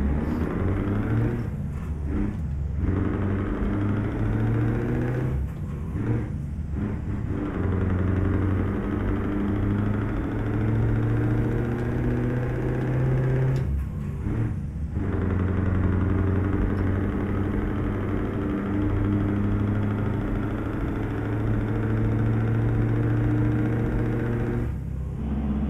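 A sustained, rumbling Scania R420 truck engine brake in Euro Truck Simulator 2, droning for a long stretch with brief drops and returns in its throaty roar.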